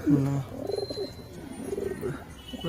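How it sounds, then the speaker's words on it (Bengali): A female pigeon coos in a low, throaty rumble, with repeated soft coo phrases running through the whole short stretch at close range. "এটা মাদি পায়রা"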